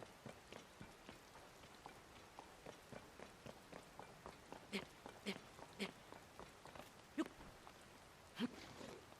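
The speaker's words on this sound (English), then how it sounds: "The rain's gonna go away in just a moment." Steady rain in Zelda: Tears of the Kingdom, a continuous soft patter with repeated light footstep-like taps running through it and brief sharper clicks toward the end.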